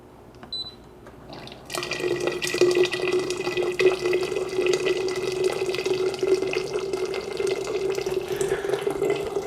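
Hot water pours steadily from a Tiger electric water boiler heated to 208 degrees, a continuous splashing stream that starts after a brief quiet click and runs loud and close to the end.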